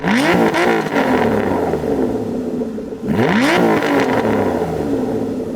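Aston Martin naturally aspirated V12 with no particulate filters revving hard twice, each a rising, snarling sweep up the range with a brief dip between, loud and close with no talking.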